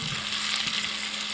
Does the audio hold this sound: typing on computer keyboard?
no